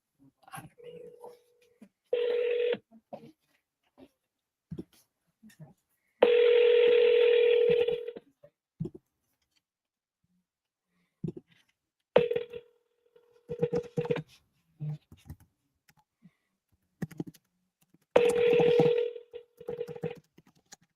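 Telephone touch-tone dialing on an outgoing cold call, a series of short and longer beeping tone bursts separated by silent gaps, close and clear with no talking over them.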